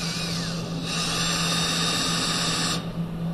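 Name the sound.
driving torque screws into a plastic electrical box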